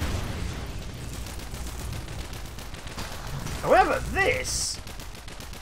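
High explosive rounds fire in the pixel-art tower defence game Mechs V Kaijus, a quick rattling run of shots under a man's speech, ending in a brief louder cluster of bursts.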